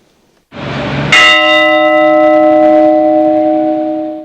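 A single deep church bell strikes loudly at a remembrance for victims of political repression and rings on, its long tone slowly fading with a bright shimmering overtone.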